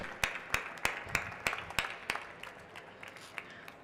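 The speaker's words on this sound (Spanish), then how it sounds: "Constanza, un aplauso para ella, por favor." Audience applause at a panel on climate change adaptation and urban nature, heard as a steady run of sharp, evenly spaced claps that thin out and fade over a few seconds, with no talk over it.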